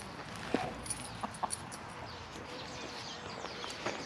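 Chickens on a countryside walk give a few short, soft clucks spread over a few seconds, faint and somewhat distant against quiet outdoor background.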